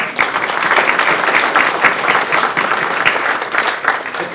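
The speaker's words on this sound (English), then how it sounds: "Have a round of applause." Loud, dense applause from a crowd at a legislative briefing in a state house, sustained and even throughout, with many hands clapping at once close by.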